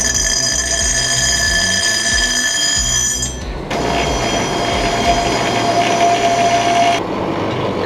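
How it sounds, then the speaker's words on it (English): An angle grinder runs in a garage with a loud, continuous high-pitched whine over a rough broadband roar, briefly dipping in pitch and level midway before carrying on steadily. "Crazy fucking grinder."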